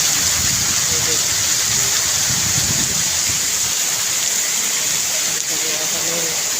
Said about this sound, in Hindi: और ये देखें बारिश, ये देखिए जैसे दरिया बन गया हमारे इधर।